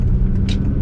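A straight-piped V12 car cruises city streets on the Gold Coast, a loud, deep, continuous engine rumble heard up close for a brief moment.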